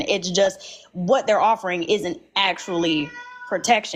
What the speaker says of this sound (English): Sorry, that was my cat, y'all.